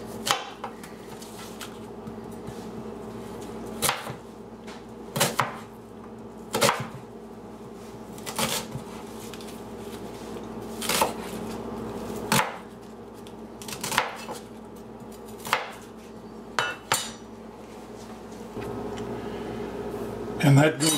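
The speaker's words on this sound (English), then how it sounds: "It starts with a chopped onion." An onion is chopped on a board for a cowboy burger, with sharp knife strikes landing in irregular bursts of a few quick cuts, close and crisp over a low kitchen hum.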